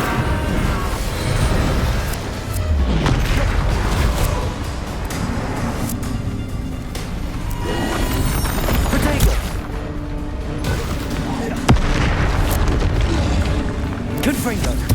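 Confringo and Bombarda spells detonate in Hogwarts Legacy combat, a dense run of heavy booms and blasts over a continuous loud battle din, with voices shouting throughout.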